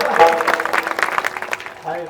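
Audience applause at a Marathi kirtan gathering, a short burst of clapping from the crowd mixed with voices and some tonal sound.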